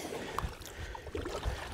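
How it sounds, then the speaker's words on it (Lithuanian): A kayak glides straight across a bog, its paddle strokes making soft, close splashes and water swishes over a faint outdoor background. "kajakas plaukia"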